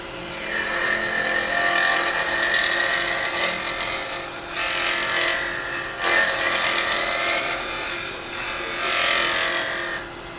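Woodturning lathe spinning a lidded wooden egg cup while a tool bores into the end grain, a high buzzing whine in several sustained bursts separated by brief lulls, close and loud.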